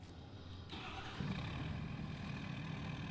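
Truck engine from a SnowRunner mod of a Super HD-550 heavy truck, a steady low rumbling idle with a brief high mechanical whine layered above, moderately quiet and continuous.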